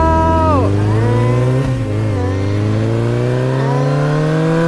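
A loud motorcycle engine in a racing video game revs steadily, pitch climbing, dipping briefly, then rising again in a sustained whine, close and continuous.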